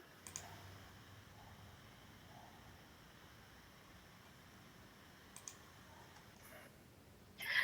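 A mouse click selects a login option on a web conferencing system screen, giving a few faint, isolated clicks over a quiet hiss, with a louder rustle at the very end.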